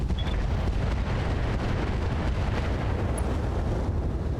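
Mech weapons fire at an Archer in BattleTech with the RogueTech mod: a loud, continuous rumbling barrage of blasts and booms that runs without a break and carries no talk.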